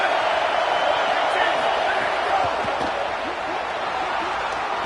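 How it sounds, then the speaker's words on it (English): Loud, steady roar of a big stadium crowd in Happy Valley on a third down, from the College Football 27 video game, filling the whole stretch with a dense wash of noise and scattered faint thumps. "Here comes the noise from this big crowd in Happy Valley on 3rd down."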